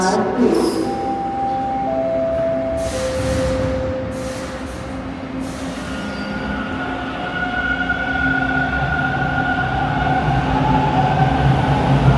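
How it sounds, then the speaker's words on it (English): A Toronto subway train rolls out of Victoria Park Station, its loud rumble and wheel squeal rising steadily over about twelve seconds, with whining tones and brief hiss bursts from the cars as it pulls away. "Alright, we might as well wait for this train to roll out"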